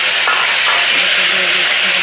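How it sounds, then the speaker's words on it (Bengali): Potatoes frying in oil in a wok, a steady broad hiss of sizzling that stays loud and even throughout, with faint background clatter. "এবার আলুগুলি ভেজে নেব।"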